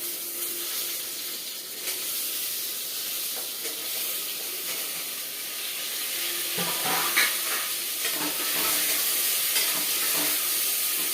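Vegetables sautéing in a pan with curry leaves and asafoetida for vegetable sambar, a soft continuous sizzle and hiss with scattered stirring clinks growing slightly louder toward the end, no talk.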